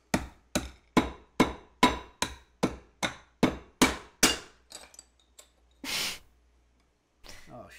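A hammer strikes through a towel about ten times in a steady, fairly loud rhythm, the blows slowing and fading near the end, followed by a breath and faint rustling.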